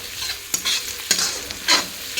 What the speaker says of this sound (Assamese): আদা নহৰু পেষ্টখিনিও মই ধুনীয়াকৈ পিঁয়াজখিনিৰ লগত জহি যোৱালৈ ভাজিম